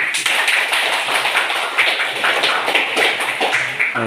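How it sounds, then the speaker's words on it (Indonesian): Students in a classroom clap their hands together in a dense, fast patter of overlapping claps that runs steadily throughout without any talking. "Tepuk tangan untuk teman kalian."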